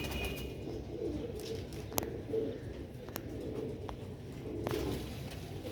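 Pigeons cooing softly at a distance amid low ambient noise, with a couple of sharp clicks and brief rustles, no talking.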